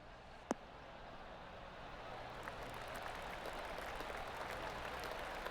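A golf gallery in PGA Tour 2K23 applauds in a steady, even wash of clapping, preceded by one sharp click.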